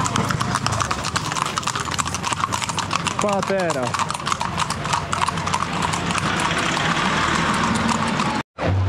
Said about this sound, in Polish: a tam pani siedzi na koniu